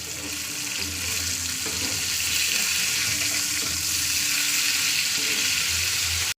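Fish sizzle and crackle in a hot pan as pieces are turned over one by one, a dense, steady frying hiss with faint scraping underneath.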